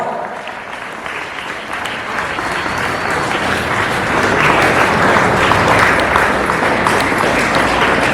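A school audience at a Republic Day prize ceremony bursts into sustained applause, a loud, thick roar of clapping that swells slightly and holds steady throughout.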